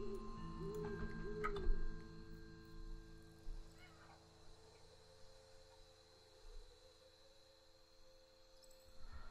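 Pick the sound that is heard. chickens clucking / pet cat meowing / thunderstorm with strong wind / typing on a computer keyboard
pet cat meowing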